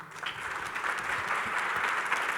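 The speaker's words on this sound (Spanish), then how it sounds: "Despidamos nuevamente con un fuerte aplauso a Yasuaki" Audience applause at a book presentation in Mexico, a steady, moderately loud wash of many hands clapping that continues evenly throughout without pause.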